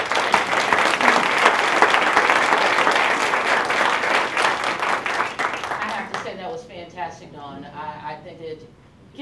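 Audience applause fills the room after a startup pitch at a launch challenge event. Loud, dense clapping runs for about six seconds and then cuts to quieter talk and voices from the room.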